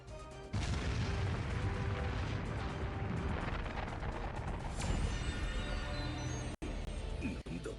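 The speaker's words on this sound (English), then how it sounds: "Explosion!" Explosion magic spell blast in the Slime Isekai video game, a long dense roaring rumble that fills the sound for several seconds, loud and sustained, with a sudden cutoff near the end.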